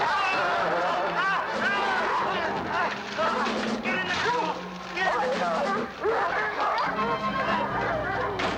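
A pack of vampiric dogs in a horror film barks, yips and whimpers in a dense, agitated chorus, mixed with background commotion and other voices.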